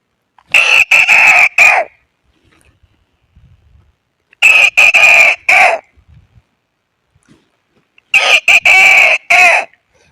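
A man imitates the crowing call of a red junglefowl, a wild rooster, with three loud, clear crowing bursts separated by quiet pauses, each made of several rapid notes.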